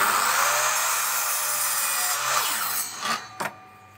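A hand saw cuts braces of wood for an outdoor table with steady, close back-and-forth rasping strokes, then the sawing slows and ends with a couple of sharp knocks as the piece comes free.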